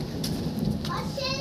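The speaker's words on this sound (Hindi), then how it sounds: "और बारिश आना शुरू हो गई" Early-morning rain at about six o'clock has just begun to fall with the sun still out, giving a steady soft hiss of drops on surfaces and a few faint background sounds mixed in.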